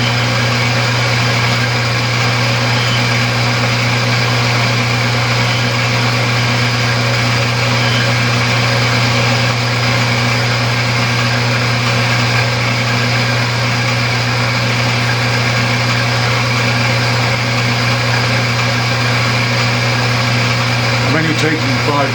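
A metal lathe facing the flat of a leadscrew nut gives a steady, continuous machine hum with a constant motor drone and no breaks.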